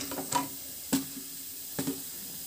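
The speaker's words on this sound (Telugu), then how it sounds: "ధనియాలు మిరియాలు జీలకర్ర గసగసాలు అన్నీ వేసేసి వేయించుకోవడమేనండి లో ఫ్లేమ్లో పెట్టుకొని ద్వారగా వేయించుకోవాలి" Coriander, pepper, cumin and poppy seeds frying in a pan over a low flame while Hotel Style Idly Sambar is made, giving a faint steady sizzle broken by a few soft stirring scrapes, with no talking.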